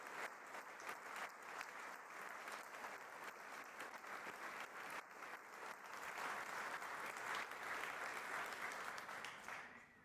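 An audience at a lecture hall event applauds to welcome General Paul Nakasone, steady sustained clapping from a large crowd swelling slightly before tapering at the end.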